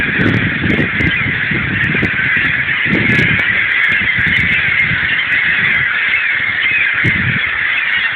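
A flock of seagulls calls continuously and loudly nearby, with overlapping honking and squawking cries in dense bursts over steady background noise outdoors.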